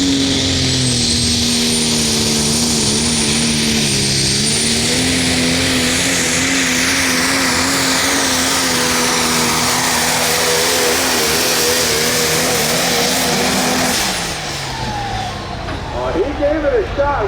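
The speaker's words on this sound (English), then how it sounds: "they will start spooling up them turbochargers, and as they get to a certain point, build up so much boost" Super Stock diesel pulling truck running hard during a truck pull in Osceola, Iowa, with a loud sustained engine roar and a rising turbocharger whine that build to a peak and then drop off near the end.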